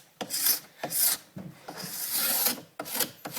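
A plastic scraper drawn along a waxed ski to strip off the wax, a series of long, raspy scraping strokes up close with short pauses between passes.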